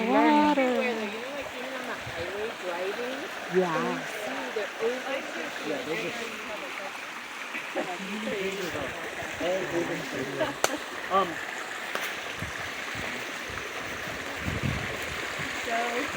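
Water trickles and burbles steadily in the background while people talk over it at conversational volume.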